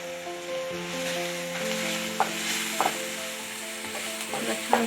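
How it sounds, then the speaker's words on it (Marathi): Dosa filling with turmeric sautéing in a pan, giving a steady close sizzle with a faint tonal hum under it and a few clinks and scrapes of a spoon stirring, with no talk. "छान परतून घ्यायचा."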